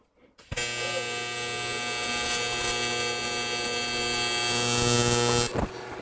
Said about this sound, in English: So we're ready to weld.